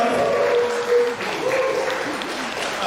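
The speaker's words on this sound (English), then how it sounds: "Give him a big round of applause, please." An audience applauds a spoken-word poet at a community theatre event in Enfield, with steady, moderate clapping from a modest crowd that carries on throughout, plus a faint murmur of voices beneath it.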